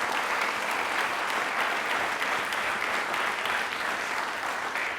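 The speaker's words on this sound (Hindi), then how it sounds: "प्लीज़ एक बार जोरदार तालियां हो जाए हम सभी के लिए।" Studio audience at a televised quiz programme clapping in a dense, even burst of applause that holds steady for several seconds, with no talking over it.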